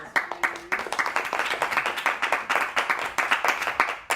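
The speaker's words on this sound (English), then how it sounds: "So a round of applause." An audience at a high school capstone presentation applauds, with dense overlapping claps that are steady and moderately loud throughout.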